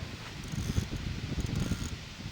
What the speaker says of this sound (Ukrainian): Ще і вітер такий сильний, капець.